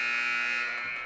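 A basketball buzzer sounds at the end of the first quarter in a girls high school game between O'Neill and Battle Creek, heard as a loud, sustained electronic tone held for the whole second alone.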